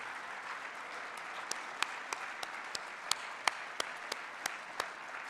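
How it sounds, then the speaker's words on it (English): Audience at a ceremony honoring new ACR fellows applauding, a sustained wash of clapping with sharper individual claps standing out, moderately distant and steady. "Please join me in a round of applause in recognition of this class of new"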